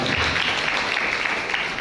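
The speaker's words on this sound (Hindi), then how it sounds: "ताली बजाकर प्रभु को धन्यवाद" Steady clapping from a church congregation thanking God during a Hindi sermon, a continuous dense wash of many hands throughout.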